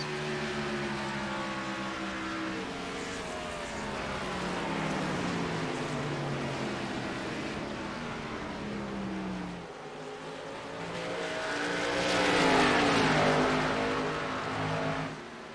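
Race cars in an ISCA stock-car event at New Hampshire, a loud rising and falling engine roar as several cars pass close by. Pitch sweeps show up as each car goes past, and a second surge comes near the end.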